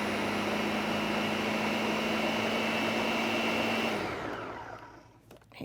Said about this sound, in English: And this is kind of loud, so bear with me. And we're going to just blend this up.